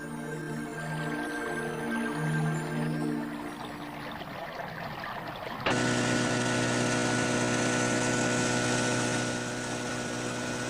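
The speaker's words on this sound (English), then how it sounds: "An outboard motor is not a traditional Indian sound." Outboard motor on a boat out in caribou country, a steady droning engine with a whining hum that jumps abruptly louder partway through, then holds a strong continuous tone, heard alone without talk.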